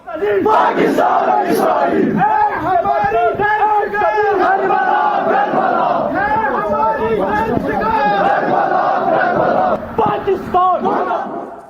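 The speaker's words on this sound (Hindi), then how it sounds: "किसी ने सोचा था कि कश्मीर में पाकिस्तान मुर्दाबाद के नारे लगेंगे?" Loud crowd of protesters in Bandipora, Kashmir, chanting 'Pakistan Murdabad' slogans in rhythmic call-and-response waves, with many voices shouting together close by and continuously.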